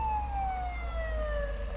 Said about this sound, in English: When the ambulance arrived to pick her up,